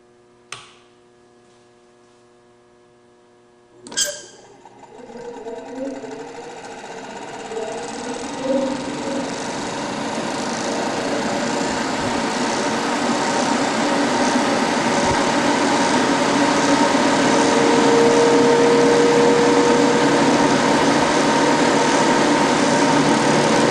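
Laboratory centrifuge loaded with full 10 ml specimen tubes spins up after a sharp start click, a steady whirring hum that builds and stays loud and constant for the rest of the stretch, alone without voices.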